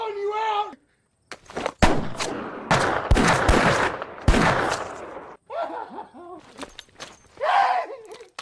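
Gunshots from a western film ring out as several sharp, loud bursts in the middle of the scene, with voices speaking before and after the firing.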